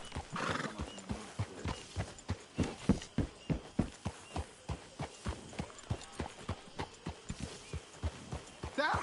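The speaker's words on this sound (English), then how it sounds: "That horse can't be in camp." A horse walks with rhythmic, evenly spaced clip-clop hoofbeats in the video game Red Dead Redemption 2, with a neigh near the start, close and moderately loud.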